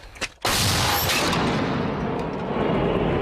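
After a brief quiet moment, a heavy large-calibre artillery gun fires with a sharp, loud blast, followed by a long rumbling roar and debris-like rush that fills the rest.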